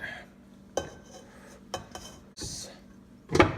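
Japchae glass noodles being tossed and mixed in a bowl, with sparse clinks and scrapes of utensils against the dish spaced out over a few seconds, fairly quiet and close.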